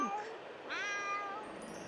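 A cat in The Sims 2 video game lets out two meows, a short one and then a longer, rising and falling one, fairly clear against quiet game ambience.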